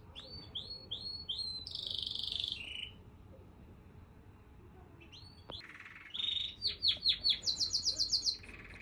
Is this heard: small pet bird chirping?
yes